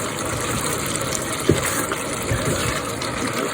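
Thick homemade spaghetti meat sauce poured into a cooking pot a little at a time, giving a steady wet gushing and sloshing with one brief louder plop near the middle.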